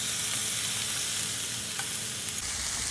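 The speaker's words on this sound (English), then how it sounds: "I'm literally going to lay our tomatoes in here for a nice flash sear" Tomatoes sear in a hot pan with a loud, steady, dense sizzle that runs unbroken and close, with a faint clink near the end.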